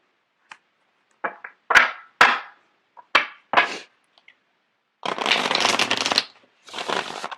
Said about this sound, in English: I'm going to get the cards shuffled out.